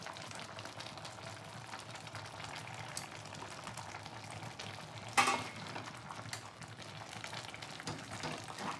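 Boiled tomatoes for homemade ketchup stirred in a pot, a steady wet bubbling and scraping texture with one sharper clatter midway, moderately close with no talking.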